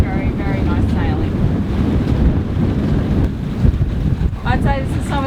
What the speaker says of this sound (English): I'd say this is some of the best sailing we've had in the entire Tranquilo journey.